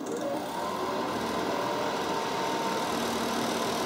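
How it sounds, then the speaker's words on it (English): A battery-powered 12V portable air conditioner runs with its compressor and fan on medium, giving a steady, close, continuous hum and whir with no change across the stretch. "the compressor will automatically kick on and the fan will default to medium"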